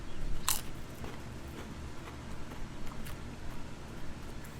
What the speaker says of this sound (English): Very crunchy. I love the crunch.